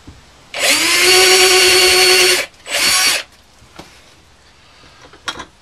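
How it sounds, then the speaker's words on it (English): Cordless power drill pre-drilling holes while installing a Hatchlift Bedlift: a loud, close two-second whine, a short pause, then a second shorter burst, followed by faint knocks. "switch over to a drill bit on my drill and get a couple of holes pre-drilled in here"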